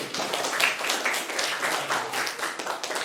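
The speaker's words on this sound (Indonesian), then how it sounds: "Tepuk tangan semuanya." A classroom of students applauds together, a dense, steady wash of many hands clapping at moderate loudness for about three seconds with no talking over it.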